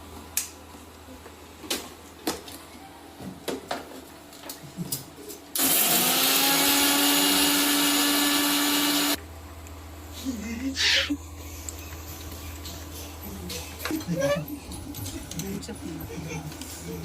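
Mixer grinder finely grinding coconut for masala, a loud steady motor whine for a few seconds between quieter kitchen clatter, clinks and handling sounds before and after.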